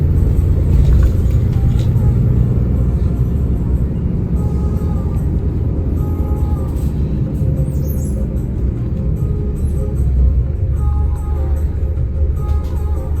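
Steady low engine rumble and road drone inside a moving PO Efisiensi Jetbus 5 executive coach, continuous and fairly loud throughout with no clear talk, faint rattles over the hum.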